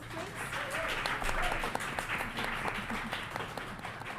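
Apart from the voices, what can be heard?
audience applause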